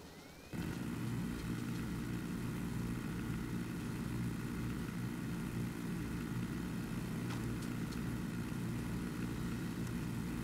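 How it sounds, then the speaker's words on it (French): Helicopter circling overhead in the Ghost Recon Breakpoint shooter game, a steady loud rotor and engine drone that cuts in abruptly and holds throughout, with faint distant effects on top. "Il est où lui avec son hélico de merde?"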